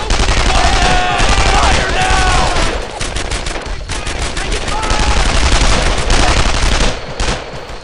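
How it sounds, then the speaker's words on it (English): Loud gunfire in the World War II shooter game Brothers in Arms: Earned in Blood, with bursts of rapid automatic fire and single shots at close range and an unbroken crackle of battle. "Shift fire! Get shift fire! Fire! Fire!"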